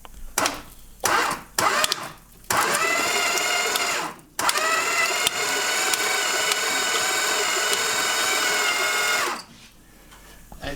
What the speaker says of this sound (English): It sounds absolutely terrible, but it's working. The engine is not stuck anymore.